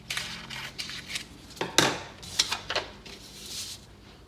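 Scissors snipping through paper to cut out a numbered shape, a run of short crisp cuts and rustles spaced unevenly over a few seconds, close and fairly quiet, with no talking.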